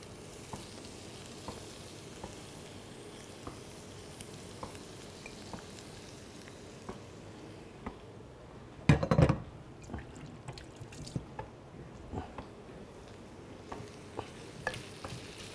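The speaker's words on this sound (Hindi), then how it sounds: "और अब इस कीमे को खूब अच्छी तरीके से भूनना है प्याज और अदरक लहसुन में" Beef mince frying in a pan with onion, ginger and garlic gives a soft, continuous sizzle. Midway, a brief louder burst of stirring breaks through before the quiet crackle settles back.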